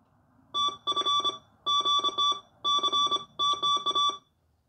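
A keyer plays Morse code back from its memory as clipped electronic beeps in four groups of rapid uneven dits and dahs, separated by short pauses, close and fairly loud, with no talking.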